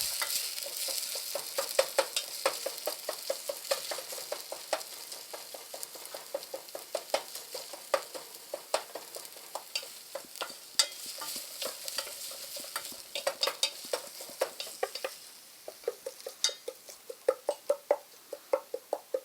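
Food sizzles in a frying pan while a utensil stirs it, producing steady frying hiss with rapid, irregular scraping and tapping strokes throughout, close up and with no talking.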